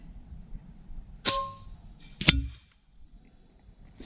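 Two sharp metallic clangs about a second apart, pellets from an FX Panthera 700 airgun striking sheet-metal plates at 105 metres, with a brief ringing tail, amid quiet background.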